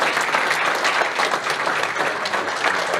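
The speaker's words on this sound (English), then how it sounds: "a final round of applause for the volleyball 15 years and under girls" A crowd at a youth sports award ceremony applauds the under-15 girls' volleyball team, a dense, even roar of clapping that holds steady throughout.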